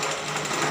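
A drilling machine bores an 8.5 mm through hole in a workpiece, giving a steady, dense mechanical whir and grind that holds constant and fairly close throughout the short stretch.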